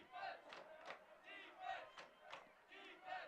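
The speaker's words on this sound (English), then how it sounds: "Crowd chanting defense." A lacrosse crowd chants "defense" in a rhythmic, repeated call of roughly two beats per second, distant and fairly faint in the stands, with no commentary over it.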